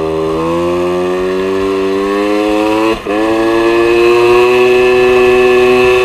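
An MBK 51 Magnum moped fitted with a test airbox climbs a small hill, its two-stroke engine close and loud. The pitch rises steadily as it revs higher, with a brief dip partway through.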